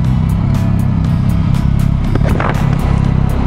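Yamaha XSR900 or MT-09 motorcycle accelerating hard, a loud rising engine roar with repeated bursts of wind buffeting, close and continuous.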